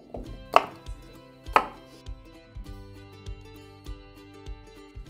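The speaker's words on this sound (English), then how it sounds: "I'll cut them in half and throw them into a bowl" A knife halves red-skinned potatoes on a board, producing a series of close, crisp chops, two especially loud strikes early and then softer regular cuts, over quiet background music.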